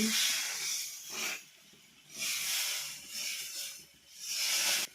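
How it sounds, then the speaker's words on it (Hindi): Rice rotis cook on a clay stove, filling the air with a steady hiss and crackle that swells and fades in waves, fairly close and with no talk over it. "तो ये चूल्हे में बन रही है हमारी चावल की रोटी।"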